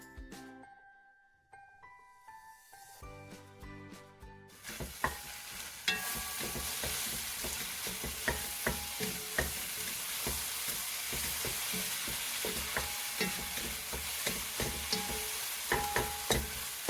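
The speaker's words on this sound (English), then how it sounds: "Now add the shredded paratha and make the thunderous kothu." Shredded paratha chopped and fried into Tamil street-food kothu parotta, with loud rhythmic metal clanging of blades on a hot griddle over a steady sizzle, repeated chops continuing throughout after a quieter start.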